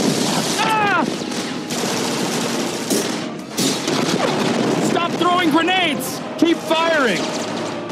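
Automatic weapon fire rattles on and off through a video game firefight, loud and close. Voices and whistling, squealing effects are mixed in.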